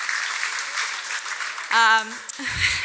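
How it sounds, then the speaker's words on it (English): Dinner-event audience applauding, a moderate wash of clapping that is briefly interrupted by a loud tonal voice or cheer near the end. "Give them an amazing round of applause because they're the most amazing parents someone could ask for."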